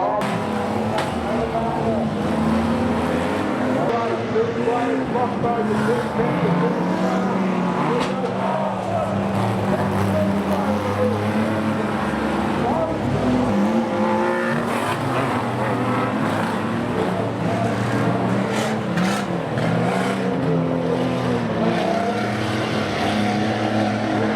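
Dirt track speedway race cars roar continuously at close range, engines droning and surging together without a break, with no talk over them.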